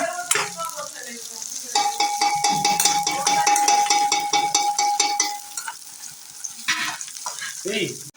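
Onions frying in a pan for biryani give a close, crackling sizzle under repeated metal spatula clanks and scraping, with a steady tonal whine in the middle and brief quieter gaps.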